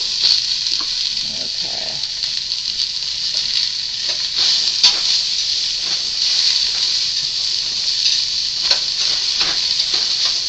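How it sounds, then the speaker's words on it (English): Onion sautés in a hot pan for aloo gobi, giving a steady bright sizzle and hiss with a few soft stirring clicks, while a voice speaks one brief word. "saute until the onion is tender"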